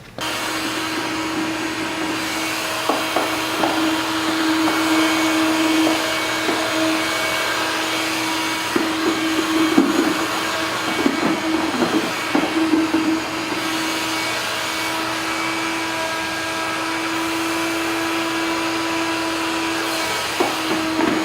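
A vacuum cleaner runs continuously while cleaning the air filter of a Yamaha YZ250F dirt bike, a loud steady roaring whine with a sustained hum, broken by brief sucking and rattling changes in pitch as the nozzle moves across the filter.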